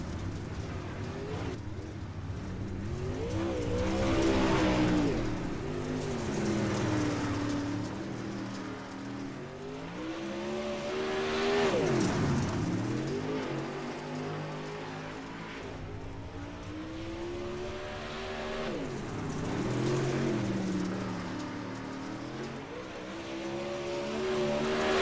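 Late model dirt race cars roar around Huset's Speedway, their engines swelling and fading in repeated waves as the pack laps past, loud and throaty with no voices.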